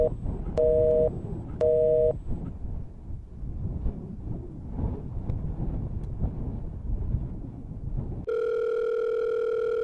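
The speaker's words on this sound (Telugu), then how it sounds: "శృతి కాల్ చేసాం, ఏం చేస్తుందో." A mobile phone call being placed: two short beeps, then a stretch of quiet background noise, then a steady electronic ringback or dial tone near the end, heard without talk.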